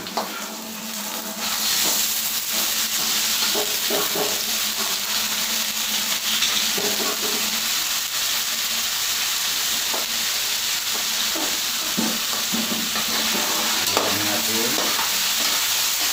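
Chicken meat fries with garlic and onion for adobo, a loud continuous hissing sizzle filling the sound close up, with occasional scraping stirs of a utensil in the pan and no talk.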